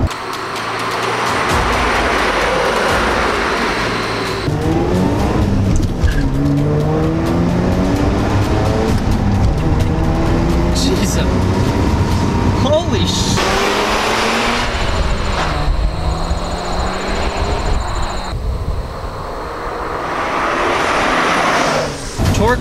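A 1990s Mazda FD RX-7 with a twin-turbocharged Wankel rotary engine drives past, its loud buzzing engine note rising and falling through gear changes and revs, with tyre noise and a voice talking over it.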